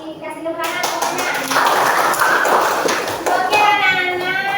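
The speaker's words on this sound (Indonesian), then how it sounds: "Kasih tepuk tangan semuanya." Students in a classroom clapping together, a dense burst of hand claps lasting several seconds, close and lively, with children's voices mixed in.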